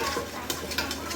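Onions hitting hot oil with whole garam masala in a home kitchen pan give a steady close sizzle, with light stirring and a few sharp clinks of utensil against the pan.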